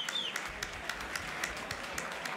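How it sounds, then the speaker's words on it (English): Diners at Lo Scarponi Restaurant in Rome applaud in a standing ovation for an arriving Cardinal-designate, with moderately distant, steady clapping from a crowd filling the whole short stretch. "A burst of applause and a warm standing ovation greeted Cardinal-designate Wuerl as"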